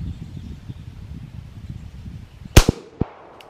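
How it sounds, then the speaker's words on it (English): Beretta 92 pistol fired at an outdoor range: low rustling background, then two sharp, loud reports close together and a third shot a moment later, each with a brief ringing tail. "Let's shoot the whole mag out."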